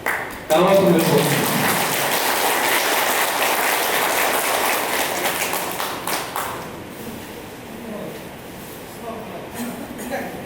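Sustained applause at a police honouring ceremony, a dense burst of many hands clapping that starts abruptly, holds steady, then thins out and fades with a few scattered claps.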